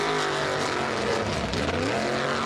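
A red Dakota race car with a Holley carburetor: a loud, buzzing engine note that climbs and then drops as the car sweeps past close by midway through.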